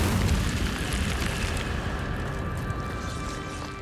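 Incendio fire spell from Hogwarts Legacy: a loud, broad whooshing roar that starts at full strength and slowly fades over a few seconds, with no voices.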